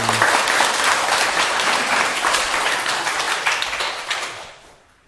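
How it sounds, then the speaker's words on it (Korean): An audience at a Korean lecture session claps in a full, dense round of applause that holds steady, then tapers and fades out near the end. "박수 한번 주세요"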